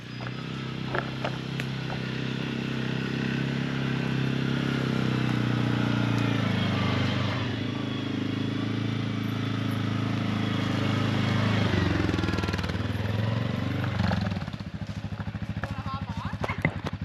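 A quad ATV engine drones steadily at a distance in the woods, rising and falling as the vehicle moves, with a voice talking over it.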